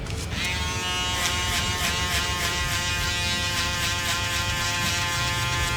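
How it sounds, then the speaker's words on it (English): Electric foil shaver running steadily close by, a constant high buzz with strong harmonics while cutting a skin fade, starting up after a brief moment and holding an even drone throughout. "now using our barberless foil shaver, we're just going to repeat the same process again"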